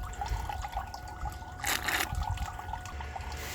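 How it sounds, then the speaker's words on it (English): Water trickling and splashing during gold panning of gravel, a soft close dribble with a brief louder splash midway. "I need a little bit more water flow."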